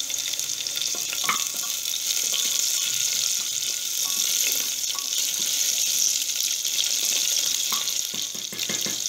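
Chopped onion frying in hot oil in a pan hisses with a steady, bright sizzle and occasional sharp pops and crackles, close and continuous with no talking.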